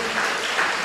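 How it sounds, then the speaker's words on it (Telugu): A church congregation claps with raised arms, producing a brief, continuous wash of crowd applause that swells slightly midway. "చేతులు ఎత్తి చప్పట్లు కొట్టండి"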